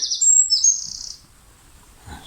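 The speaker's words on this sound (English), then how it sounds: "There's a nice bird song in the background." Outdoors, a bird sings two or three bright, high chirping phrases close by in the first second, then fades to near silence with a faint rustle at the end.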